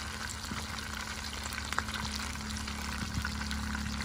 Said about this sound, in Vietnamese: Cá chim chiên xả ớt